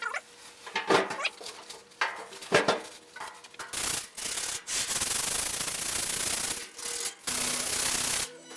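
Abrasive sanding strokes rasp across the metal bonnet of a Frogeye (Bugeye) Sprite during primer prep, short scrubbing bursts at first, then a long continuous grinding rub, close and fairly loud with no talking.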